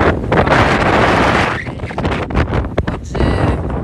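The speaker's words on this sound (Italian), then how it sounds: "troppo vento e questo vento un po' freddo" Strong, cold wind blows at the seashore, roaring loudly against the microphone in dense gusts that ease slightly and then build again.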